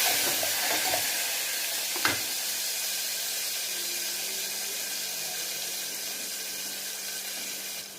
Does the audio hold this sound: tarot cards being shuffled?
no